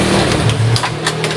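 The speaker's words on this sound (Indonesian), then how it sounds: "Tuh, motornya hidup normal." Honda Vario Techno scooter engine running right after a kick start, a steady close idle hum with light mechanical ticking and no pauses.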